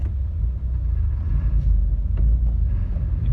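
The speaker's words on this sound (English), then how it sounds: "You can hear this tractor trailer revving his engine for the race." A tractor trailer's diesel engine rumbles steadily at a race starting line, a loud, continuous low drone with slight swells as it revs, heard alone without talk.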